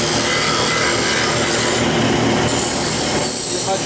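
A lathe tool cuts into an ambrosia maple bowl blank in a loud, continuous, harsh scraping roar that is steady and close throughout.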